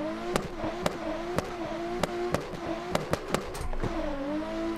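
A Nissan S15 rally car in a snowy alpine stage video game revs hard at the red line, its engine note wavering up and down, with repeated sharp clicks and bangs over the steady drone.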